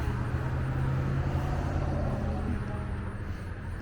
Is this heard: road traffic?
yes